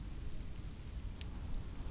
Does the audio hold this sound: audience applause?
no